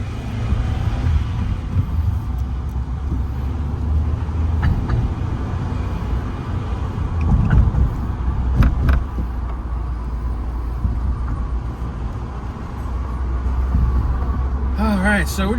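A manual-transmission car driving along a road, its engine and road rumble forming a steady low drone throughout, with faint rattles and a few brief bumps, while a person talks over it.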